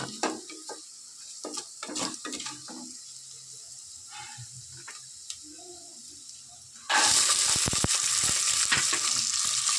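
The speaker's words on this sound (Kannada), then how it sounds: "ಮತ್ತು ಒಣ ಕೊಬ್ಬರಿ ಹಾಕ್ಕೊಂಡು ಚೆನ್ನಾಗಿ ಫ್ರೈ ಮಾಡ್ಕೊಳ್ಬೇಕು." Dry coconut and spices fry in ghee in a pan with soft stirring and light clinks, then a loud, steady hiss of sizzling for the last few seconds.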